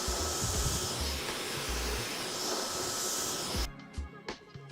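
A hair dryer blows steadily on hair being styled with a round brush, a loud continuous hiss that cuts off near the end, leaving faint handling noises.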